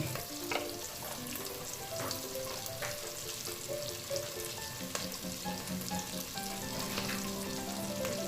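Onion and tomato masala sizzles steadily in a pan just after the tomatoes go in, a continuous close frying hiss with tonal background music playing underneath throughout.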